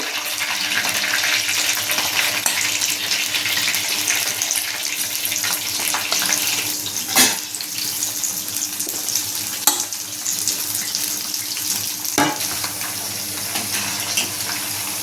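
Mushroom pakodi fritters crackle and sizzle steadily in hot oil, a dense, continuous frying hiss with a few sharper clinks of a utensil against the pan.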